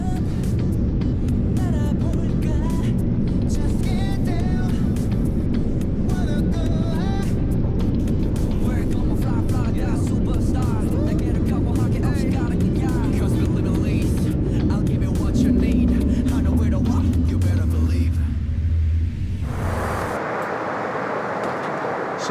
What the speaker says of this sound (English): Here's a bit of the takeoff action for all you aviation geeks out there